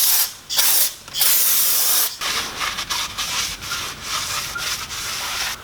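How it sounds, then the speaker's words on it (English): Brake cleaner sprayed in hissing bursts onto a Mercedes-Benz E350 brake rotor, with rubbing and wiping close by. The sound comes in several loud, uneven pulses with short gaps between them. "I'm going to go ahead and wipe it down once more with the non-chlorinated brake cleaner"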